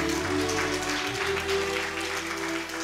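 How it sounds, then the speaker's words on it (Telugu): An audience claps steadily during a church sermon, the applause sitting fairly quiet beneath a continuous hum and low room tones, with no voice on top. "గట్టిగా చప్పట్లు కొట్టాలి"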